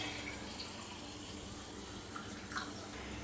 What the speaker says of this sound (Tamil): சோடா ஊற்றிக்கலாம்.